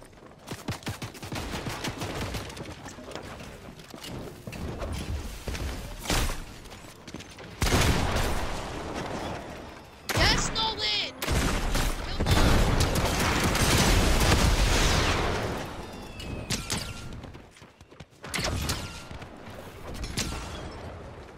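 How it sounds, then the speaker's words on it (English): An automated turret fires in a rocket-ram-only online shooter match, with dense rapid gunfire bursts and mechanical clatter broken by a few short gaps, loud and continuous. "Turret's going crazy."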